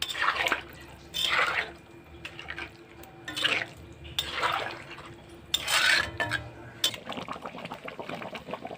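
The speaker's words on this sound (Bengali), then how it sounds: "এবার জলটা দিয়ে দিচ্ছি।" Water poured into a pan of gathi kochu (taro) curry during cooking: several separate splashing pours with short pauses between them, close and fairly loud.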